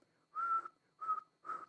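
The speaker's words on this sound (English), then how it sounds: "I know that was kind of weak, because I told you guys I haven't whistled in a long time, but notice I whistled" A person whistling three short, clear tones with brief gaps between them, close and moderately quiet, with no other sounds.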